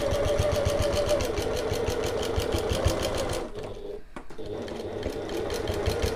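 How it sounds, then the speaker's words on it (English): Sewing machine running steadily while back stitching through layers of an open top tote bag, a close, loud continuous mechanical whir with rapid needle rhythm and a brief pause near the end before resuming. "I'm going to start with my needle down. I'm going to back stitch at the start and the end."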